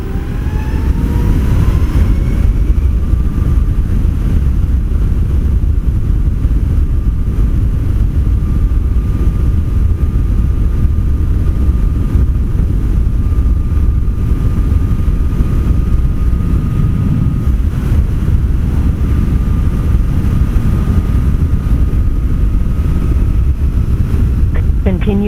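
A 2018 Zero SR ZF14.4 electric motorcycle ridden on a freeway in full-torque custom mode: heavy, continuous wind roar dominates throughout, with a thin, steady motor whine running underneath.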